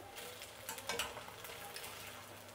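Gobi manchurian cauliflower pieces frying in hot oil while being slowly turned, giving a steady soft sizzle with a few brief stirring scrapes near the start.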